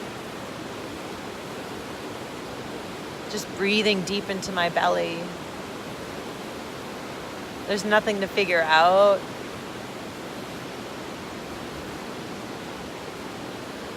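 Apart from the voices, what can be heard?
rushing water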